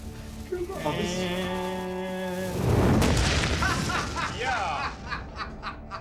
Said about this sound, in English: That was the best explosion we've ever done.